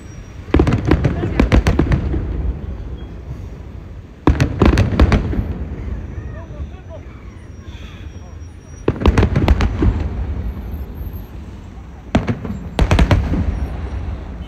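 Fireworks burst in several loud volleys of rapid crackling bangs, each cluster a second or two long and separated by quieter gaps, with people talking faintly between the bursts.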